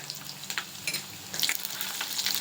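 Garlic, urad dal and chana dal fry in oil in a pan, a quiet close sizzle with scattered crackles and pops and light stirring.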